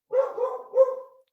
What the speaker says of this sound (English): That's our beloved Labradoodle.